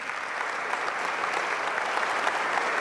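An audience applauds at a formal tribute event, a dense, steady roar of many hands clapping that holds at an even, fairly loud level for a few seconds without speech.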